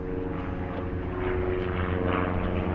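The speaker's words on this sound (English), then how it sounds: "there's a fucking aeroplane. Fuck off, you noisy fucker" A propeller airplane drones overhead, a steady rumbling hum with a throbbing engine tone, fairly loud and continuous.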